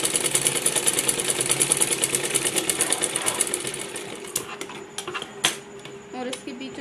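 An electric sewing machine stitches along the middle of a salwar hem, a steady rapid whir for about four seconds, then slowing into short, uneven bursts and stops, with faint background hum.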